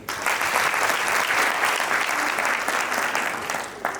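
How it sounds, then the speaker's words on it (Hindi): Loud, even applause from an audience at a motivational success-story talk in Haryana, continuous clapping at close range, easing slightly near the end. "ताली होनी चाहिए।"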